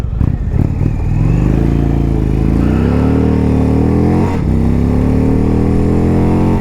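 An Indian Thunderstroke motorcycle engine accelerating hard from a standstill, its loud, close exhaust note climbing steadily through several gears with brief dips at each shift.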